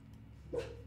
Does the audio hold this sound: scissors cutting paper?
no